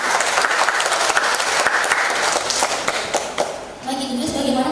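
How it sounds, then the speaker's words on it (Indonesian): A crowd at a public speaking training session for call center staff applauds warmly for a few seconds; the clapping thins out near the end as a voice begins speaking. "Beri tepuk tangan untuk Ibu Grace."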